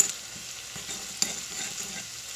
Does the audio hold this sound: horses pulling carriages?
no